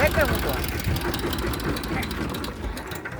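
A tractor's diesel engine idles with a low, steady rumble throughout, while a person talks over it.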